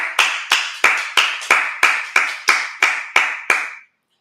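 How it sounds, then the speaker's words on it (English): An audience claps in about ten slow, evenly spaced, loud rhythmic claps in unison at a Feast of Tabernacles gathering, then stops. "Let's clap it up."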